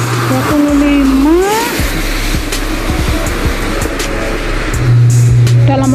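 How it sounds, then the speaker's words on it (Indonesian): Cars on Sanmin Road in Baojhong, Yunlin, Taiwan, with a loud engine passing close by over steady traffic rumble and another vehicle approaching near the end. "Kita ada mobil balik."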